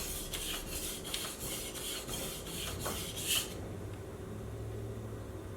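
A knife edge being refined on a sharpening stone or strop, with rhythmic rasping strokes repeated about twice a second, then stopping and leaving a low hum.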